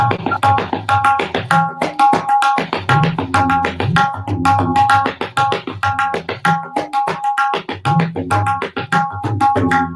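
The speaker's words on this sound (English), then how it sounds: "the composition which defines the basic of tabla is this Delhi composition" Tabla drumming plays a fast, repeating Delhi composition of ringing, pitched strokes and deep bass thumps, close and loud.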